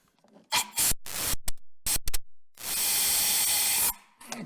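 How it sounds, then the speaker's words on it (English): Pressurized air is blown through a car heater core hose, spraying out in several short sharp blasts followed by one long, loud steady hiss of air and liquid spray up close. "Got a little bit here, and stand out of the way and blow again."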